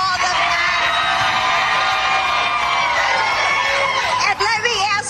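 A rally crowd roars with sustained cheering, whoops and yells, loud and dense throughout with a brief dip near the end.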